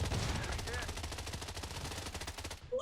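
Rapid automatic gunfire in the video game Blood Strike, a loud continuous stream of closely spaced shots lasting nearly three seconds before cutting off.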